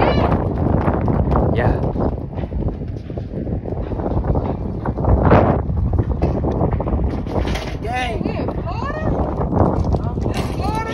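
Strong wind buffets the microphone in loud, continuous gusts during an outdoor sports practice, with people talking over it.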